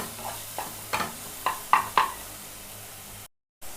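Banana pieces fry in ghee with cashews and raisins, a low steady sizzle punctuated by several distinct scraping stirs and knocks of a spoon in the pan, close and clear.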